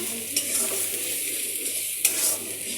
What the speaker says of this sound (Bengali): এখন যেই পেঁয়াজ আর রসুন বেটে রেখেছিলাম এটা দিয়ে দিলাম